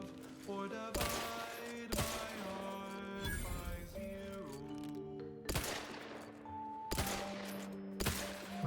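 Gunfire during a fight with arachnids in The Outer Worlds 2, sharp repeated shots roughly every second over tonal music and game effects, fairly loud and close.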